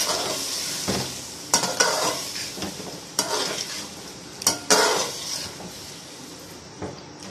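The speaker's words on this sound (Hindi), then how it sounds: "साथ ही हम 2-3 चम्मच दही के ऐड करेंगे और साथ ही इसको मिक्स करेंगे" Yogurt being stirred into masala in a pot for biryani pulao, a soft sizzle under repeated clinking and scraping spoon strokes against the metal, close, several sharp knocks, no talking.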